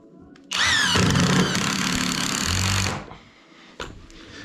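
A power screwdriver drives thick, long screws through a second layer of OSB boards into a wooden beam on a timber floor; a single loud whirring burst lasts about two and a half seconds, followed by a few faint knocks.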